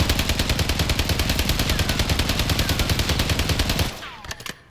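STG 44 assault rifle hip-fired in a video game shooting range, a loud unbroken automatic burst of rapid, evenly spaced shots lasting nearly four seconds, then a short tail of clicks and echo.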